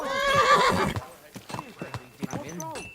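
Horse hooves clip-clopping and a loud whinny from a ridden horse in a medieval knight video game, the neigh up front followed by uneven hoofbeats, with a voice speaking over the riding.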